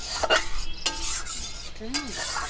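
A spoon stirs spices being fried with added water in a pan, giving a few sharp scraping strokes and clinks over a low sizzle, close and fairly loud.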